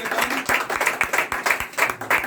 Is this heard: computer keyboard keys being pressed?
no